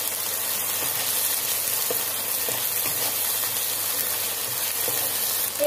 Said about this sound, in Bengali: রসুনের যতক্ষণ না কাঁচা গন্ধটা যাচ্ছে ততক্ষণ এটা ভালো করে একটু নাড়িয়ে নিতে হবে।